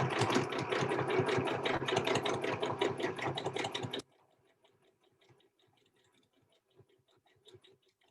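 A sewing machine runs quickly through fabric for a postcard, a close, busy rattle of rapid stitching that cuts off abruptly, followed by faint clicks and handling in near silence.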